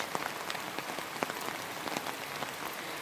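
Steady rain patters on a surface in a yard in the Carpathians, with scattered louder drops tapping irregularly over a soft continuous hiss.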